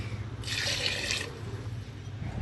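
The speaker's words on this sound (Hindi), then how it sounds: "थोड़ा सा पानी डालेंगे।" Water pours briefly into a pressure cooker pot of mutton aloo gosht, a bright splashing burst lasting under a second over a low kitchen background hum.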